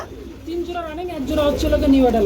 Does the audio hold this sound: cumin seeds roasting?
no